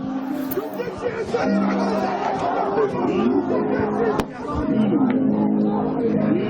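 Crowd shouting inside the National Movement party office in Georgia, a continuous babble of many raised voices mixed with background noise, fairly loud and steady with a brief dip partway through.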